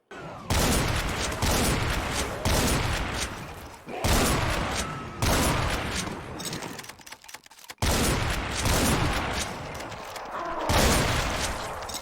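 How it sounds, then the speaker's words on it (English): Relentless rapid gunfire with heavy impacts, gore and bursts, loud and continuous, the chaotic roar of combat in Doom with the Project Brutality mod. "just listen to the sound of gunfire and gore."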